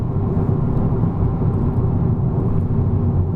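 A Honda Civic Type R cruises in 5th gear, its engine giving a steady, loud low drone and rumble, with road and cabin noise held constant throughout.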